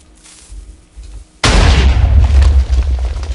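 A Minecraft TNT cannon goes off with a sudden loud explosive boom and a sustained rumbling roar after a quieter lead-in, with no talking.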